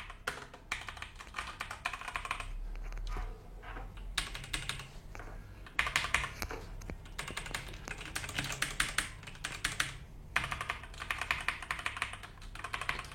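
An HP Gaming Keyboard 800 mechanical keyboard with Outemu switches is typed on in quick bursts of crisp, close clicks and clacks, with brief pauses between runs of keystrokes.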